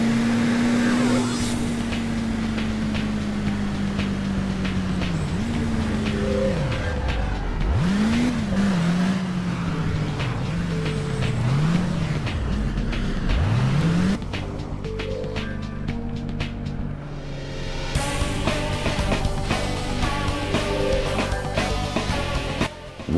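Racing car engine in the police chase game Cobra 11 Crash Time, droning loudly and continuously, rising and falling in pitch through repeated revs and gear changes, with brief tire and impact noises.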